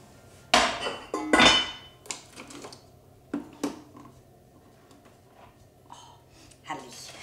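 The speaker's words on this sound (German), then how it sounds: "jetzt fülle ich sie gleich mal um in einen Topf" Potato leek soup is poured and scraped from a Thermomix bowl into a pot, giving sharp metallic clanks and knocks of spatula and utensils at irregular intervals, close and loud between quieter stretches.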